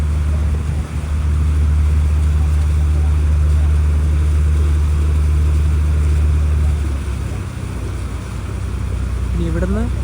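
A large passenger boat's engine drones loud and steady on the Alappuzha–Kottayam backwaters, a deep continuous hum that eases off toward the end, when a short rising tone cuts in.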